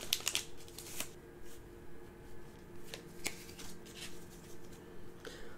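A Pokémon Rebel Clash booster pack is torn open by hand, with crisp foil crinkling, tearing and rustling in quick irregular bursts, close and fairly quiet.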